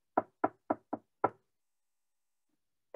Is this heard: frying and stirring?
no